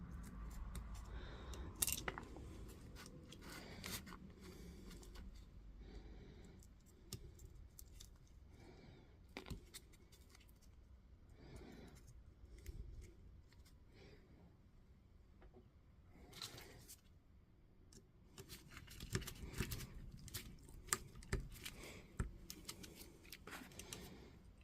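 Scissors trim material to size during a repair on a Makita 18V LXT battery, giving faint, irregular snipping and clicking over about twenty-five seconds, close by and without talk.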